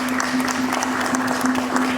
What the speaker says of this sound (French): il donne de l'applaudissement d'abord très très fort